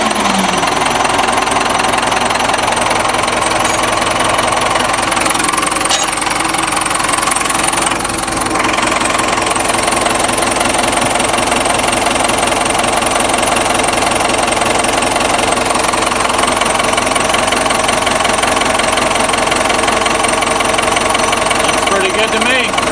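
A road roller's engine runs steadily after starting, a loud continuous idle with a knocking, vibrating rumble throughout; a voice is briefly heard over it.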